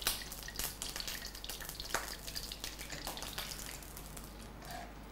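Bay leaves and cloves frying in a mix of oil and ghee, a steady close sizzle with crackling pops throughout, no voices.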